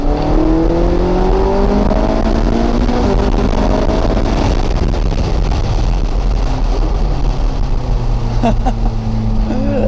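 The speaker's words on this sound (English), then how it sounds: "Hopefully I'll let you hear the engine a little better." A Ferrari 458's naturally aspirated V8 roars and revs continuously from inside the cabin, pitch rising and falling with acceleration over steady road and wind noise.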